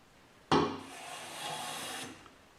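A hand plane with a freshly sharpened blade shaves a thin layer off a wooden board's edge, making one close, soft, rasping stroke that starts sharply and fades out after about a second and a half.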